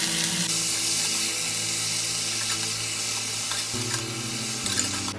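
Potatoes and spinach fry and crackle in a pan as a spoon stirs them, a loud steady sizzle with scraping strokes and a faint kitchen hum underneath, nearby, with nobody speaking.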